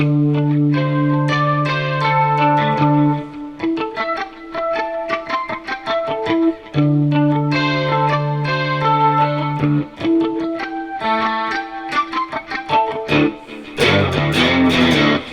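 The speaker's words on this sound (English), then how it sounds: "So from the very beginning, we're going to be doing harmonics." An electric guitar plays ringing harmonic notes through effects, bell-like tones in a shifting pattern, ending in a burst of noisy distortion.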